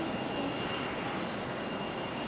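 Airliner preparing for departure at Raleigh-Durham International Airport (RDU), heard as a steady, distant jet engine roar and broadband rumble holding evenly throughout with no speech.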